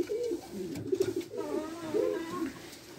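Soft repeated cooing from white homing pigeons, several low rolling calls close by and fairly quiet, with no talking over them.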